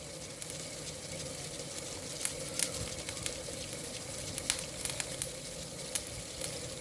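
Onion sizzling in a frying pan over strong heat, a steady hiss with scattered crackles and pops through the whole stretch and no talking.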